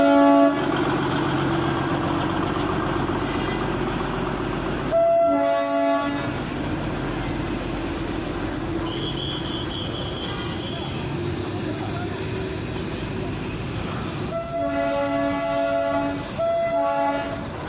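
The Darjeeling toy train rumbles past close by in a long, steady roar, its horn sounding in short toots at the start and again near the end, with voices faintly under the noise.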